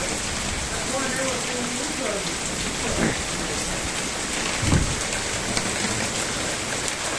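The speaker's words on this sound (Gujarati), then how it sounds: "અચાનક નહોતો ત્યાંથી વરસાદ આવી ગયો" Steady, heavy rain pours down in a sudden downpour during a windy thunderstorm, a dense hiss over trees with a couple of brief low thuds, close and loud throughout.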